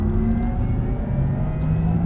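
A 2023 Porsche Taycan Turbo roars steadily as it accelerates hard on a driving track, with a loud constant drone and rising pitch throughout.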